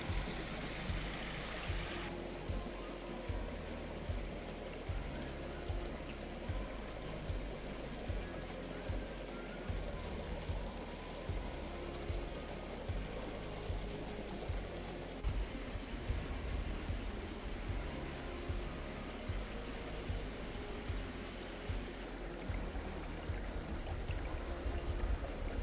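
A stream runs through a sunny forest at a spot called Huk, giving a steady, unbroken rush of flowing water over the whole stretch, with no voices.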